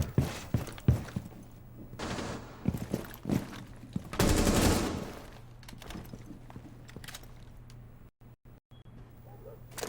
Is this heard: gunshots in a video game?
yes